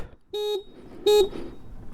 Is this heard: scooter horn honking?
yes